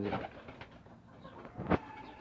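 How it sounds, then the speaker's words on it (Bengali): Giribaz pigeons, a Pakistani breed, coo softly in a loft, with a few low murmuring calls and one brief louder burst near the end. "ওইটা একটা পাকিস্তানি কবুতর গিরিবাস কবুতর"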